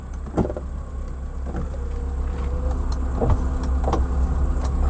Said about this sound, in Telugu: ఫ్రంట్ రెండు ఈ విధంగా పవర్ విండోస్ అయితే వస్తాయి